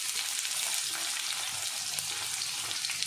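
Chopped onions frying in a pan over cumin seeds for vermicelli, a soft, steady sizzle that stays even and fairly quiet throughout.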